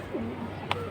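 Pigeons of an old breed coo softly at a pigeon market, with a low warbling coo and a brief sharper call near the end, over a faint murmur of background noise.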